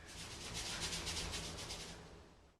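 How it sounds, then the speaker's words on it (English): Sand shifts and rubs inside the weighted plastic base of a Kong Wobbler dog toy as it is tilted, giving a close, soft, continuous hissing rasp that swells in rhythmic pulses and then stops abruptly. "The base of the Kong Wobbler was weighted down with what sounded like sand."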